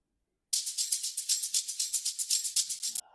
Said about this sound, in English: And then this one, a shaker loop.